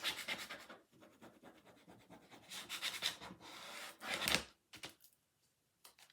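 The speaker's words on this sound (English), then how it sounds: "Give it a good scrape." A tool scraped firmly across a stencil laid on Halloween home decor: several rough, rasping strokes of varying length, close up, ending in a short pause and a couple of faint scuffs.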